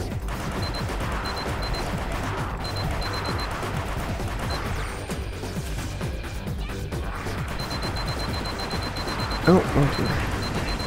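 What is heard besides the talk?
grenade explosion and gunfire in the video game Gunz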